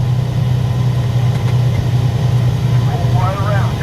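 A Peterbilt bobtail truck's engine drones in a continuous low, close rumble, with a voice talking briefly over it near the end.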